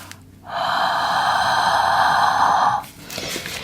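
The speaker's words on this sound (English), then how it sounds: "You want to breathe on it." A long, audible breath blown out onto spirit powder folded into paper, a steady, close hissing exhale lasting about two seconds after a brief intake.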